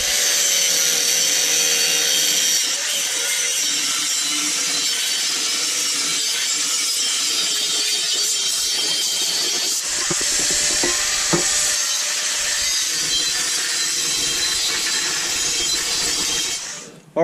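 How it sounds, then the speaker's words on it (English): A power tool cuts and grinds steel tubing for a turbo manifold on an LQ4-swapped 1981 Camaro Z28, a loud, continuous high-pitched whine that holds steady for about seventeen seconds before stopping. "a whole bunch of cutting and chopping and grinding"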